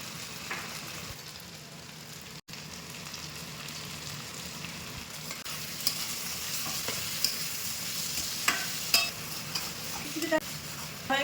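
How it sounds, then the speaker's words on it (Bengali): Tomatoes and peas frying in oil in a pan for a tomato and bean curry, a continuous close sizzle broken by repeated scraping stirs and clinks that grow busier toward the end. "টমেটো একদম ভাজা হয়ে গেছে এবারে এর সঙ্গে মতিটা দিয়ে দেবে"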